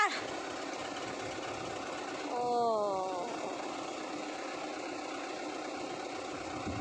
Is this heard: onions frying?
no